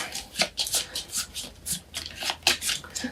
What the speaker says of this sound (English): take all the cards in my deck, flip them face up, and shuffle them